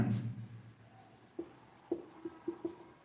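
Chemistry formulas being written on a board, a run of short, light taps and scratches that grow more frequent toward the end, quiet and close, following a faint bit of sound at the start.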